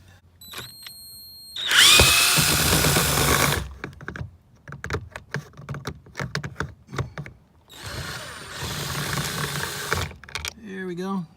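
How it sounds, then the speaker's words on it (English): Two bursts of a power hex driver whirring as it removes door bolts on a 2013 BMW 328i, a few seconds apart, with clicks and rattles of metal between them and a brief voice near the end. "use a screwdriver, a hex driver, and get these 2 bolts out right here"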